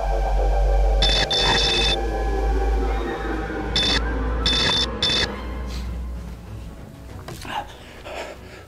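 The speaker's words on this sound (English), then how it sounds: "I don't know what that sound was. It was like coming out of the microwave." Strange high-pitched electronic tones from a microwave, coming in short bursts over a low hum and sometimes lingering, heard indoors at moderate loudness with no one speaking.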